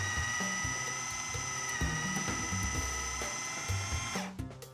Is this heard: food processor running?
yes